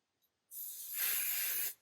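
Spray-and-bond adhesive hisses from an aerosol can onto a hat for embroidery, one steady close burst of about a second and a quarter after a brief quiet pause.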